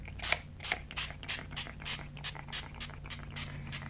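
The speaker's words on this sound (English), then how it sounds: "We've got some Vintage Photo, and we have our Distress Sprayer" Repeated short sprays from a Distress Sprayer misting Vintage Photo Distress Spray Stain onto Tim Holtz Halloween collage paper, about ten quick bursts in an even rhythm, close and clear over a low steady hum.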